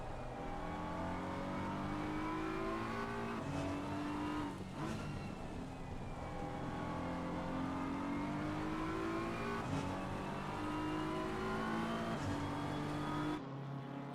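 Race car engine in Assetto Corsa Competizione on the Nordschleife, revving and shifting through gears with rising and falling pitch, steady and prominent, with no voices over it.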